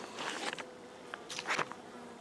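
Honey bees buzz around an open hive during beekeeping work, a soft continuous drone with a few brief louder swells as individual bees pass close.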